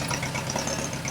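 A tractor engine drives a grain auger through a PTO power takeoff shaft, giving a close, steady low rumble with a faint uneven knock and no voices.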